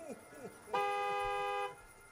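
A car horn in the Gas Station Simulator video game gives one sustained honk lasting about a second. It is loud and clear, with someone talking just before it.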